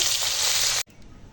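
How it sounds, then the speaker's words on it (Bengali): Koi fish frying in hot oil give a loud, dense sizzle that cuts off abruptly, leaving quiet room tone. "মাছগুলো ভাজা হয়ে গেছে তো তুলে নেব"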